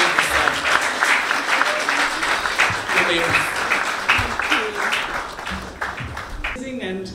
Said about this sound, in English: share with us a huge round of applause